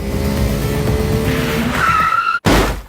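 Tires skid and squeal loudly in a film scene as a motorcycle speeds off, a steady roaring screech with a rising whine near the end, a brief cut of silence, then a burst of engine noise.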